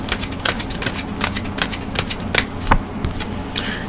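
Tarot cards are handled and laid down on a table: a run of crisp card snaps, shuffles and slaps at an irregular pace, close and fairly loud, with no talking.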